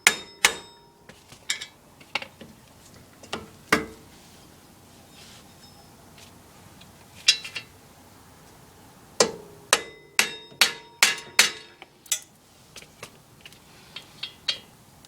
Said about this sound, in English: he's slowly working that axle out as he's pounding on those hub assembly bolts